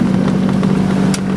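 Sailboat motoring under its engine at sea in light wind and a long swell, a loud steady low drone with an even hum and no voices over it.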